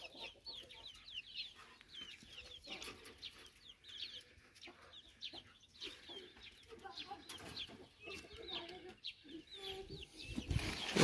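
Hens clucking on a farm, a flock giving repeated soft clucks and higher squawks at close to middle distance. The calls come in irregular bursts over a quiet background, with a louder rustle at the end.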